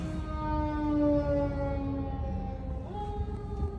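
A wailing siren holds long tones that slide down and then back up, moderately loud and steady over a low rumble of traffic.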